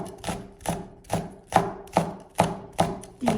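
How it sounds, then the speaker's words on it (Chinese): A kitchen knife chops green and red peppers and green onion into small rings on a cutting board, about eight crisp, evenly spaced thuds close by, with no talk. "给它切成小圈圈就可以了。"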